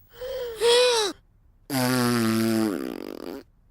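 A horn is blown badly in two strained bursts, producing honking, flatulent blats that waver and break off, loud and close.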